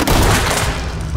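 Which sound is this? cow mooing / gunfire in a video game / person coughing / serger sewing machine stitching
gunfire in a video game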